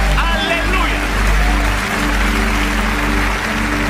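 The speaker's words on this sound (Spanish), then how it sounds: "Si ese aplauso es para el Espíritu Santo, que sea el más fuerte de la historia" A church congregation in a large cathedral applauds, a loud, continuous wash of clapping and crowd noise with a low rumble underneath, sustained throughout.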